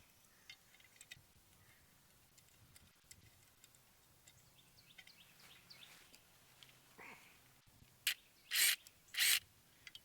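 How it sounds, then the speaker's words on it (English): A hose clamp is tightened around a trolling motor fitted with a Ninja Gen 2 grass cutter: faint scraping ticks, then a few loud, harsh bursts close by near the end. "I've got a hose clamp here. We'll put this hose clamp around it."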